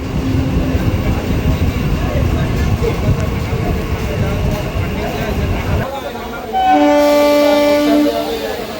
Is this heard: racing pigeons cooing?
no